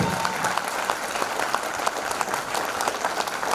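An audience at a motivational speech event claps in a steady, dense burst of applause that holds at an even level throughout.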